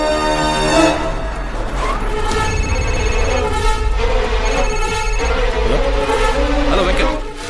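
A telephone bell rings loud and continuous with a steady repeating trill, layered over dramatic background music in a movie scene.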